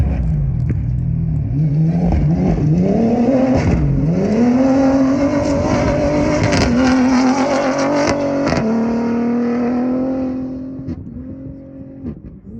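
A Toyota Hilux hybrid Dakar rally car roars past under hard acceleration, engine pitch climbing through several gear changes, loud and close before fading away at the end.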